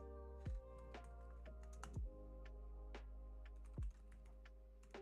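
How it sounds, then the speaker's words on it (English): Quick, light keystrokes on a computer keyboard patter steadily and close up, with a few heavier key thumps standing out at irregular intervals. "While I'm just typing away at this"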